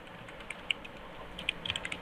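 Fast, light clicking of a computer keyboard during code writing, irregular keystrokes close by and fairly quiet, with no voice over them.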